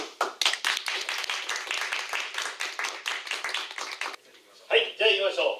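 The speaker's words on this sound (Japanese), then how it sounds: "じゃあ拍手。" A small audience at a hypnosis show in a Nagano community learning centre claps in quick, distinct hand claps for about four seconds, then stops as a voice speaks.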